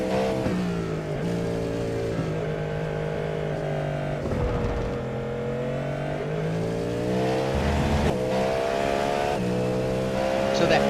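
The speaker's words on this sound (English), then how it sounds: "Roberge is in a naturally aspirated V10" A naturally aspirated V10 race car engine at a Fuji road race revs hard through its gears, a loud, continuous harmonic wail with brief dips at shifts, with speech in the background.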